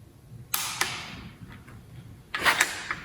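A torque wrench clicks and ratchets while tightening bolts on a 383 Chevy stroker engine, with a few sharp, close clicks separated by quieter mechanical creaks.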